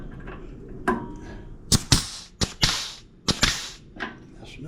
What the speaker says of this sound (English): I have got to get a new grease gun.